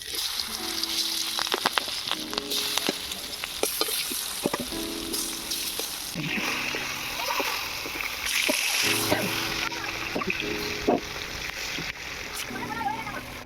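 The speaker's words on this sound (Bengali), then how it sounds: "আবারও আমি বাকি মাছগুলো ভেজে নেব।" Large rupchanda pomfret fish fry in oil in a village-style kitchen, a continuous close sizzle with splattering bursts and occasional stirring clatter, while a voice talks intermittently over it.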